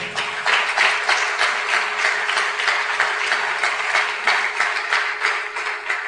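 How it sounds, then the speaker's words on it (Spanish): A church congregation claps loudly for the Lord at a sermon, a dense, steady patter of many hands sustained throughout without pause. "Den un aplauso fuerte a Él."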